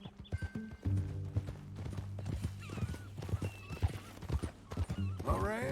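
A horse in the Red Dead Redemption 2 video game clip-clops along in uneven hoofbeats, then lets out a shrill whinny at the end, with other game sounds in the background.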